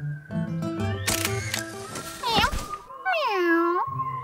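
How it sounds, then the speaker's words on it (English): A cartoon camera shutter clicks sharply several times in quick succession amid a busy animated scene with music, a meowing cat and cartoon sound effects. "Quick, take a picture."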